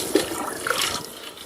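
Water from a bucket poured over a seated person's head, a short splashing gush with a brief trickle afterward, no talking.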